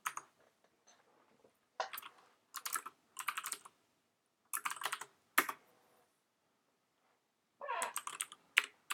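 Bursts of typing on a computer keyboard while writing code, quick clusters of key clicks separated by quiet pauses, close and fairly soft.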